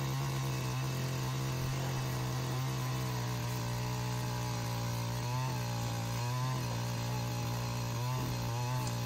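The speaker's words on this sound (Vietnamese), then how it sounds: "chỉ việc là bật công tắc giật nổ, sau đó là móc ga thì máy sẽ tự khoan" A petrol-engine earth auger on a wheeled push frame drills planting holes in hard, root-filled hillside soil of a coffee garden, its engine droning steadily and loudly throughout with slight rises in load as the bit bites.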